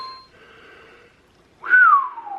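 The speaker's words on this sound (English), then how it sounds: "I'm whistling" A clear, close whistled note sliding downward in pitch, preceded by a fainter steady tone, loud and alone.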